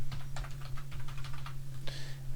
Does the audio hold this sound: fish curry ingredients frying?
no